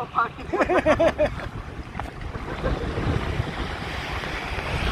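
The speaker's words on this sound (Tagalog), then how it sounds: "Pasok ang alon dito sa ilog." Someone speaks briefly, then a steady rushing wash of waves entering a river and wind noise fills the rest, loud and close to the microphone.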